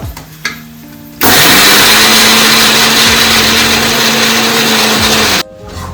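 A mixer grinder whirs at full power for about four seconds, grinding raw mango chutney with sugar and cumin, starting abruptly, holding a loud steady drone and then cutting off.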